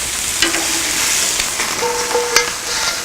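Pork chops sizzle in a hot Camp Chef cast iron skillet, a bright steady frying hiss with small crackles and a few clinks of utensils nearby.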